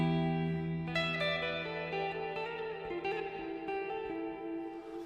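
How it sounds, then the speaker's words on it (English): Electric guitar through a Headrush effects unit set to infinite reverb, slow notes and chords ringing into a dense, sustained wash that keeps building and overlapping, heard alone without talk. "So infinite reverb, if you're playing slow enough, it can sound pretty good."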